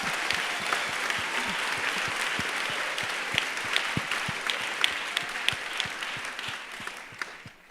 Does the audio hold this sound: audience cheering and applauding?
yes